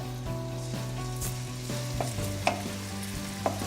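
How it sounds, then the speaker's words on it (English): Steady close-up sizzling of bacon frying in hot garlic oil, with a couple of sharp pops and scraping stirs, no voices. "As soon as you start to hear that nice sizzle"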